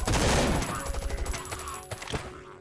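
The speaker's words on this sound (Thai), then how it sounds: "อันนี้ก็ยิงแบบนี้ไปก่อนนะ" Rapid bursts of gunfire from the survival video game Last Island of Survival, dense and loud at first and then thinning into scattered shots over a couple of seconds, with a synthetic game tone underneath.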